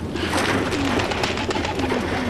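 Homing pigeons coo softly and continuously at close range, a low throaty murmur with no voices present.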